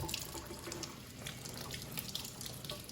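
Running tap water splashing steadily into a sink as children rinse strawberries, a close, continuous gush with small drips and splashes and no talking.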